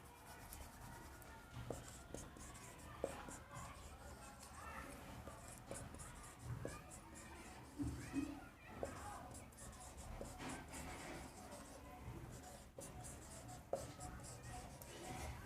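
A pen or marker writes across a board during a Hindi-language lesson on English future tense, with steady soft scratching strokes running the whole time, fairly faint, and a voice occasionally speaking over it.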